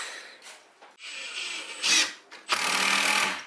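Power drill driving screws up into roof rafters beneath a chimney rafter swap, heard in several close whirring bursts of a second or so with short pauses between them, no talk.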